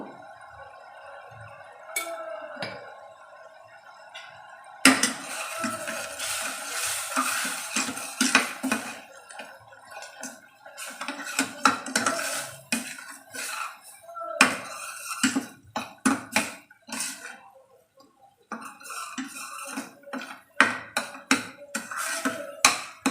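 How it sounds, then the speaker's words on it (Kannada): Spoonfuls of coriander, garam masala and turmeric powder being stirred into masala in a pan, with repeated scraping and clinks of metal against the pan, close and busy, with a faint background sizzle. "ಧನಿಯಾ ಪುಡಿ, ಗರಂ ಮಸಾಲ ಪುಡಿ, ಅರಿಶಿನದ ಪುಡಿ ಇಷ್ಟನ್ನು ಹಾಕಿ ಮಿಕ್ಸ್ ಮಾಡ್ಕೊತೀನಿ"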